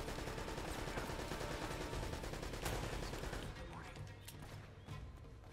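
Sustained machine-gun fire in Uncharted: Drake's Fortune, a dense rapid rattle of shots running continuously for several seconds, then thinning slightly toward the end, fairly quiet overall.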